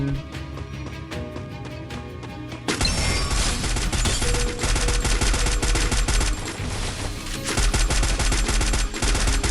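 Rapid automatic gunfire in the Free Fire video game, dense bursts of shots that grow louder and more continuous after a few seconds, loud and sustained without talk.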